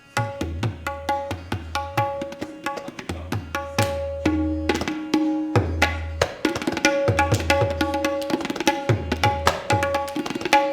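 A sitar plays a 16-beat rhythmic composition alone, with crisp plucked notes in quick, even phrases and ringing sustained tones, close and clear.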